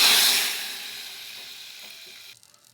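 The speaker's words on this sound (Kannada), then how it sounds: "ಮೆಣಸಿನಕಾಯಿ, ಕರಿಬೇವು ಸೊಪ್ಪು ಸ್ವಲ್ಪ ಹುಷಾರಾಗಿ ಈಗ ಮಾಡಿರುವಂಥ ಸಾಂಬಾರಿಗೆ ಹಾಕಿ" A hot tempering of chillies and curry leaves poured into vegetable sambar gives a loud sizzling hiss that fades steadily over a couple of seconds, then cuts off.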